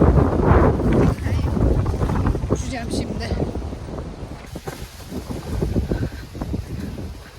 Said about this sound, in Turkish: O kadar rüzgar var ki ama tamam